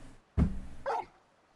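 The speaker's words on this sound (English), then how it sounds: "That's a dog." Dog barking in the video game Final Fantasy 16: a single loud, close bark, followed a moment later by a shorter, higher yip.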